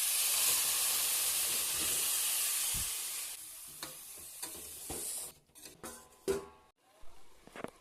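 Vegetables dropped into hot oil with fried spices give a loud, steady hiss of sizzling and steam for about five seconds, then fade into scattered stirring clinks and scrapes in the pan.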